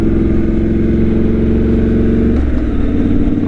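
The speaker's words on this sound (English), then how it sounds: "I like the exhaust note on it." A Triumph Scrambler motorcycle's 8-valve two-cylinder engine runs with a loud, steady, throbbing exhaust note close by, its pitch shifting slightly partway through, with no talk.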